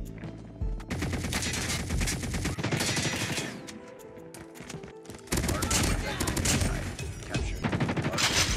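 Rapid automatic weapon fire in a Call of Duty Mobile Hardpoint match, including a laser gun, crackling in dense bursts with a brief lull midway, loud and close, mixed with game announcer voices.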